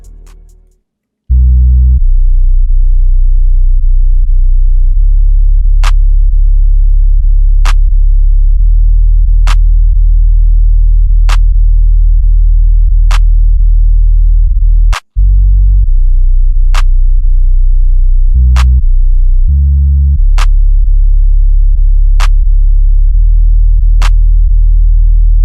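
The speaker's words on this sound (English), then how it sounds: "But this is what the 808 sounds like." A deep, sustained 808 bass line from a beat made in FL Studio, with long booming notes separated by sharp clicky hits in a steady rhythm, loud and alone.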